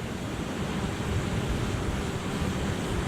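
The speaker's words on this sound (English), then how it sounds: "It's windy right now" Steady rushing wind buffets the microphone outdoors at a paddle boarding spot, a continuous roaring noise with no voices present.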